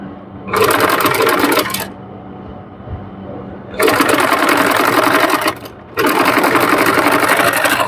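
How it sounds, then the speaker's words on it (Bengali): A sewing machine stitching a dress neckline, loud and close, running in three sustained bursts of rapid stitching separated by brief pauses. "তো আমি এরকম ভাবে সেলাই করে নিচ্ছি"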